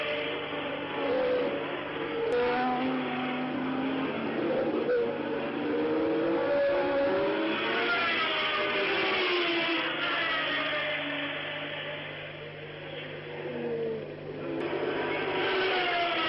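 1984 Formula 1 race cars scream past with rising and falling engine whines throughout, heard on a broadcast under a commentator's steady voice.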